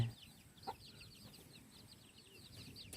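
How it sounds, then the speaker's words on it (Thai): Chickens cluck softly in an outdoor farmyard, with a faint steady chirping of birds or insects in the background and one brief louder call near the start. "นี่ไก่"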